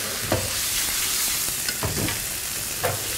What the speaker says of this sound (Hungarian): Megsütögetem a májamat. Pecsenyémet sütögetem, látod?